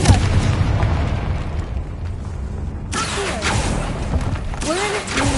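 A Confringo fire spell explodes in the Hogwarts Legacy video game, a booming blast over a dense, continuous wash of game sound effects and music, with further crackling bursts partway through.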